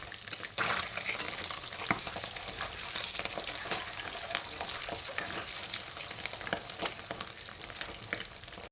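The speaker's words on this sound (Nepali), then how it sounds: "अब हामीले अन्डा राख्ने र अन्डालाई फ्राई गर्ने।" Eggs frying in a pan for a Nepali egg and potato curry: a continuous, fairly loud sizzle with dense crackling and small bursts of spitting, heard close and without speech.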